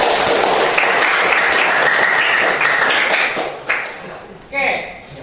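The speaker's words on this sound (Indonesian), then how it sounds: "Kasih aplaus dulu." A classroom of students applauding together, a loud dense burst of clapping that fades near the end, followed by a voice speaking.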